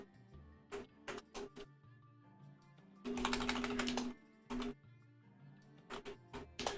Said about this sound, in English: I'm speaking as I type.